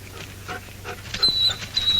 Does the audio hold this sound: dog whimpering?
yes